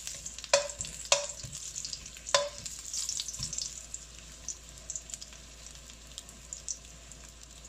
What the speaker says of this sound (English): Put in the ginger slice first.